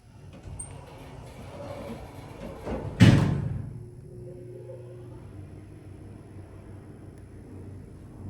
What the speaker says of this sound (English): I'm gonna close up the door and we're gonna start the motor up